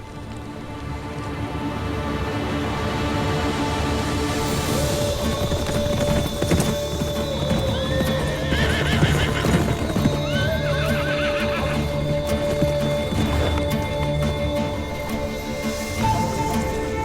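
Horses neigh and whinny repeatedly while hooves clip-clop steadily in a period drama scene, with rain pattering in the background throughout.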